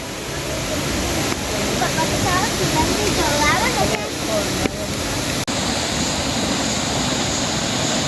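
A waterfall in Chiapas pours with a steady, full roar close at hand, while faint chirping sounds flicker briefly over the rushing water.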